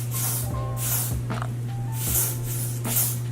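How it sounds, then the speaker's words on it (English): Several short hissing spray bursts, evenly spaced and close, over a steady low electrical hum. "So I'm just going to spray in between the baby hairs and my new hairline."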